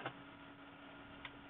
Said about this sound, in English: Hear my intense tapping on my keyboard?